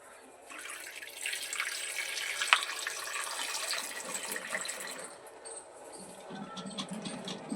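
Water poured over duck eggs and salt in a bowl, a steady close splashing flow that runs for several seconds and then eases off, with a single sharp clink partway through and no talk.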